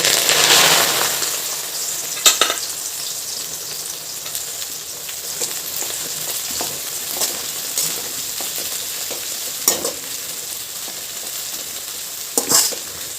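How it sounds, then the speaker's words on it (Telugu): Gongura leaves fry in hot peanut oil, a steady close sizzle marked by several sharp spatula clacks and stirring scrapes, with no talking. "ఆయిల్ కాగిన తర్వాత ఆకు అయితే వేయాలి కొంచెం కొంచెం"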